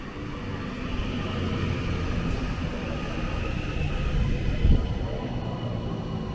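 Train 331015 rumbles steadily through Leyland station at close range, with a low continuous drone and a brief clunk near the end.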